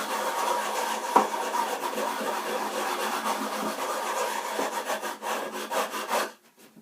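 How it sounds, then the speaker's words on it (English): Coarse sandpaper glued to a plywood block rubs back and forth along a classical guitar's wooden neck in steady, close, scratchy strokes that continue until a sudden stop near the end. "I use a block of plywood with sandpaper stuck to it."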